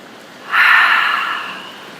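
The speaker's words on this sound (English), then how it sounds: "As we breathe out, punch out." One forceful breath pushed out through the nose or mouth during a punch, a single loud breathy rush lasting about a second before fading, close and alone.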